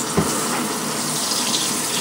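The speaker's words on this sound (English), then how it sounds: "And you want to fill your sink" A tap runs lukewarm water into a sink for washing wool diaper covers, a close, steady gushing stream with a faint splash near the start and no speech.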